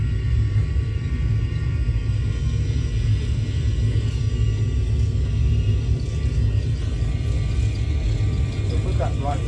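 Airliner engines spool at takeoff power in a flight simulator cockpit, a loud, steady low rumble that fills the whole stretch without a break.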